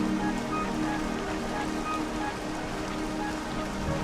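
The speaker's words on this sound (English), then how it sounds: "looking at it, it's raining." Steady rain in the video game Dragon Quest XI patters continuously on a surface, a dense even hiss of drops with no pauses, moderately loud and close.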